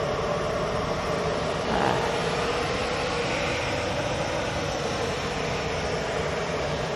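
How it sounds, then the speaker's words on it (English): An EasyJet Airbus A320 jet roars steadily on departure for Catania, a broad, even engine rumble heard at moderate distance with no voices. "EasyJet's A320 off to Catania"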